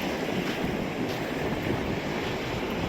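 Ocean surf rolls in steadily on an empty Folly Beach in Charleston, South Carolina, a continuous broadband wash with light wind rumbling on the microphone and no voices.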